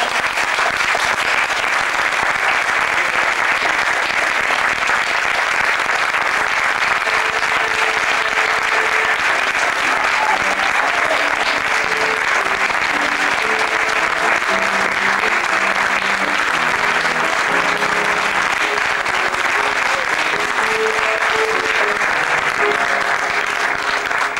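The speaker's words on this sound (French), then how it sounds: "Les applaudissements en disent long" Audience at a film jury award ceremony breaks into long, loud, sustained applause, with faint tonal sounds drifting beneath the clapping midway.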